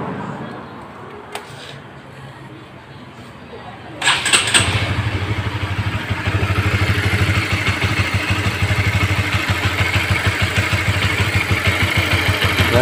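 A Honda CB150R motorcycle, checked for a rough-sounding timing chain, sits quiet before its engine starts abruptly midway, then settles into a steady, close, even idle with a rhythmic mechanical clatter.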